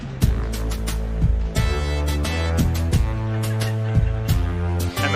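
Warcraft game music plays back from a Sound Canvas synthesizer with eight-note polyphony, a dense, loud retro MIDI arrangement with recurring percussive hits and sustained chords, no voices.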